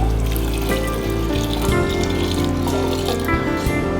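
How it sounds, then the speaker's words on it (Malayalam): Three cups of water poured into a pressure cooker for wheat pongal, a steady, close, continuous rushing stream lasting a few seconds over a tonal background. "ഇനി 3 കപ്പ് വെള്ളം."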